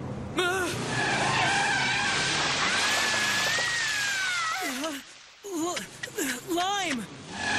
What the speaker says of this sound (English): That was Hanagata's car.